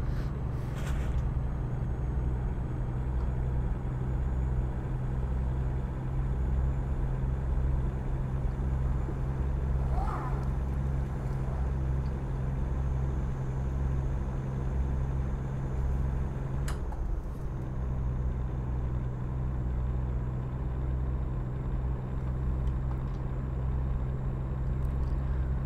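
A Freightliner Century truck drives in American Truck Simulator with ice road mods, giving a steady, loud, low engine drone that holds evenly through the whole stretch with no talking.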